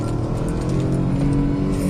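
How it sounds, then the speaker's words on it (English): A new, not-yet-serviced Mahindra XUV 3XO accelerates hard in first gear, its engine note loud, steady and close, pulling continuously with no talk over it. "But alright, so first gear, let's check the pull."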